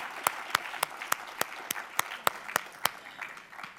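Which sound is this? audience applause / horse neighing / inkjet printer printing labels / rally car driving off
audience applause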